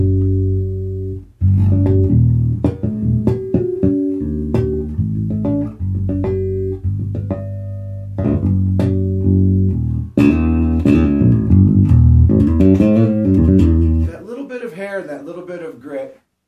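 A Leonardo Bosquez Tierra bass played through a GK MB Fusion 800 amp and Baer 112-ML cabinet gives deep, sustained low notes and riffs with punchy attacks, ending in a brief slurred, higher phrase, alone with no talk.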